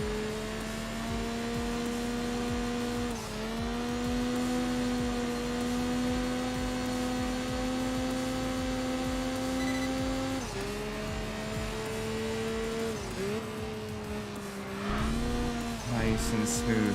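A race car in the game Enthusia Professional Racing drones through corners with a steady engine tone. The pitch dips and climbs as the throttle eases and picks back up, and someone talks over it.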